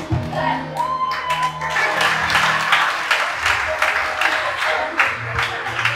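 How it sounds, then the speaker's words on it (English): Audience clapping at a children's Christmas cantata, a dense run of steady hand claps throughout, mixed with some crowd noise and a few voices. "keep clapping for them. Keep clapping."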